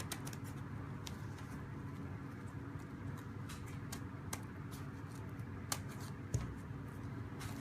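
Scissors snip through ribbon while a half bow is made for a Christmas tree: a few faint, sharp cuts spaced apart over a steady low room hum.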